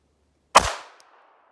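A single sharp report from a .22 LR rimfire firearm loaded with Browning Performance Rimfire 37-grain fragmenting hollow-point rounds, fired outdoors over a chronograph toward a berm. The close, loud crack decays quickly into a short tail, followed by a faint click.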